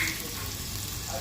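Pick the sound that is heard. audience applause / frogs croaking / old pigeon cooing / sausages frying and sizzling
sausages frying and sizzling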